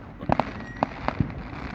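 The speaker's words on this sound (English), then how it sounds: "There ain't no such thing as halfway fireworks in DOVEY." Fireworks exploding outdoors, a quick burst of several sharp cracks and bangs at an irregular pace against a low background rumble.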